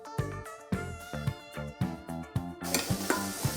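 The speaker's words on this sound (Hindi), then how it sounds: "जो प्याज मैंने चॉप कर लिया वो प्याज डाल देती हूँ। प्याज डाल के अच्छे तरीके से मिक्स कर देते हैं।" Chopped onions go into garlic frying in a pan for lauki ka bharta, sizzling steadily while a spoon scrapes and stirs in quick repeated strokes, close and alone.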